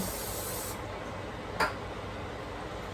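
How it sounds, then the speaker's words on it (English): A single short hiss of olive oil sprayed into an 8x8 baking pan, brief and close, over a faint steady background with no talking. "Sprayed some olive oil in there."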